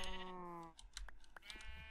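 Sheep in Minecraft give a couple of short harmonic bleats, the first held briefly, followed by scattered clicks of keyboard typing, no talk.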